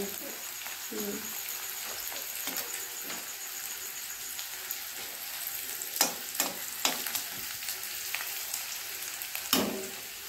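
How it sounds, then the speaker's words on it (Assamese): Sliced onion fries in oil in a pan for a fish curry, a soft continuous sizzle close by, broken by occasional sharp clicks and scrapes of stirring. "পিঁয়াজখিনি ভাজিব লাগিব অলপ ৰঙচুৱাকৈ।"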